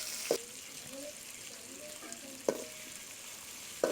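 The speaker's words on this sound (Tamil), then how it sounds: "இப்போ பார்த்திங்கன்னா தக்காளி வந்து ஓரளவு நல்லா வதங்கிடுச்சு" Tomatoes with salt sauté in a pan during Chettinad village cooking: a faint, steady sizzle with soft scraping stirs and three sharp utensil taps against the pan, about two seconds apart.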